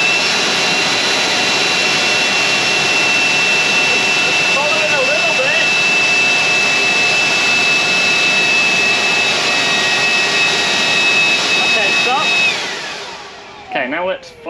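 A steady, loud roar from an air blower aimed under a car in a budget wind tunnel test, with a high whine running throughout before the blower winds down near the end and rustling noises follow.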